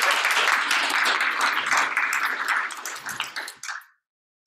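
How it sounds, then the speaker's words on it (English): Loud, dense applause from a panel forum audience, sustained for several seconds before tapering off and stopping abruptly. "So let's give them some applause to get them started."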